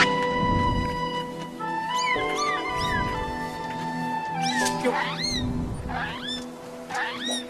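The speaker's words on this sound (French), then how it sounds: "Le chat?" A cat in The Legend of Zelda Skyward Sword HD video game gives several rising, close meows over soft game music, with the calls clustered in the second half.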